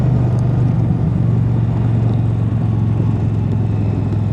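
An Indian Challenger motorcycle engine pulls hard under throttle while riding, a loud, continuous low rumble with a steady droning tone and no voices.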